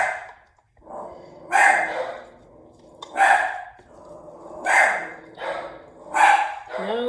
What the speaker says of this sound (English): Now my deaf and blind dog are barking.